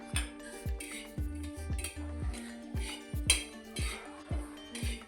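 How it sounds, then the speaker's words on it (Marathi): Half a cup of cleaned sesame seeds dry-roasting on a griddle as a spatula scrapes and clinks against the metal in a steady rhythm, close and clear with no talking. "हे सुद्धा आपल्याला तव्यावर टाकून भाजून घ्यायचे आहेत"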